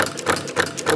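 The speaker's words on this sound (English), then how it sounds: "This will be your little popper unit right here, hooked up to my engine design." A small noble gas popper engine runs with a steady, rapid rhythmic pulsing, a fast mechanical chatter that repeats several times per second at close range.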